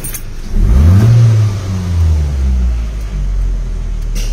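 Mitsubishi Cedia car engine revved at idle, a loud swell near the start that eases back to a steady rumbling idle, heard alone at close range.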